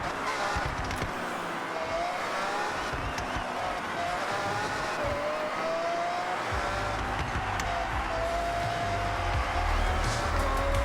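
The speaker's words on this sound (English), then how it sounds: "yes, there is a V12 in this BMW X5" V12 engine of a BMW X5 racing in Forza Horizon, a steady loud drone holding through the whole stretch with rising and falling pitch as it pushes on, deepening near the end, no talk over it.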